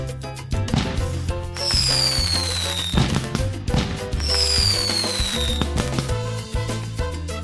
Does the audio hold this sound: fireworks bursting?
yes